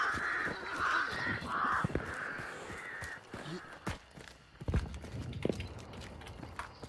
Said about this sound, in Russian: Я спугну ворон.